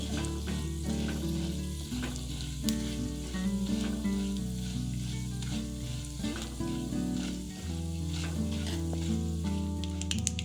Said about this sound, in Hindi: 1 छोटी चम्मच राई, 1 चम्मच चना दाल, 1 चम्मच धुली हुई उड़द दाल। इनको अच्छे से रोस्ट कर लेंगे।